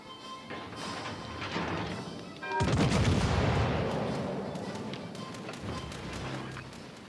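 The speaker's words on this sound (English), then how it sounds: "Anti-aircraft gun crews are on" Anti-aircraft guns firing in the naval video game World of Warships: Legends, a rapid rattling barrage that swells suddenly after a quieter stretch of gunfire and keeps rumbling on with dense, overlapping shots.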